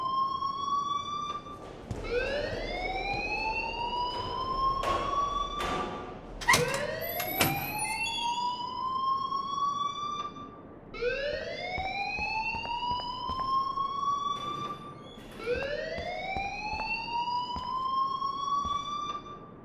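In the game Life is Strange an alarm blares, a loud whooping siren that rises in pitch again and again, about four sweeps in steady succession with some clattering in between.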